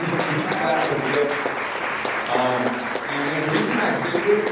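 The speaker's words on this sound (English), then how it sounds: "clap for Leo" An audience claps for Leo at a speech, with a dense, steady patter of hands that carries on throughout at moderate loudness and some voices mixed in.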